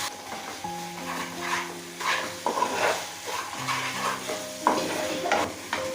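Spice masala for a mustard rohu fish curry is stirred and fried in a pan, a steady sizzle broken by repeated scraping strokes of the spoon, close and clear.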